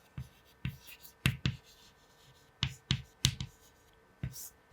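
Marker or chalk strokes on a classroom board as characteristics of solids, liquids and gases are written out; quick scratchy taps and strokes in irregular clusters, close and fairly clear against a low steady hum.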